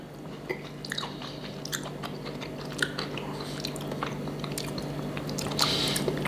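Someone chews and bites into red olives, raw and very salty, close up with soft wet crunches and squishy chomps repeating steadily over a constant low hum, no talking.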